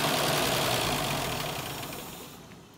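The carbureted engine of a Frandee Sno Shu Model E snowcat runs with an uneven, knocking idle, a rough churning noise that slowly fades over a few seconds.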